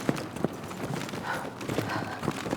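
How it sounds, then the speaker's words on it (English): Crouching and standing up in Battlefield 6 make soft gear rustles and shuffles, a few short muffled bursts over faint background ambience with no talking. "Even crouching and standing up makes noise."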